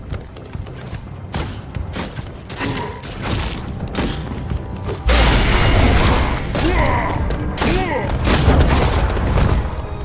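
The Tyrant's shockwave ability in the video game Nosgoth strikes as a sudden loud blast midway, followed by sustained rumbling, thuds and combat noise, with a voice talking over it.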